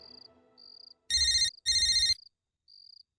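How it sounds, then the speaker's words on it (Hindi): A phone ringtone sounds in two loud, steady bursts close by, with a fainter higher tone chirping on and off around them. "रमन का नीचे से फोन"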